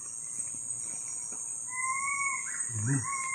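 A bird calls in a few thin, high whistled notes over faint background noise, with a short low murmur of voices toward the end.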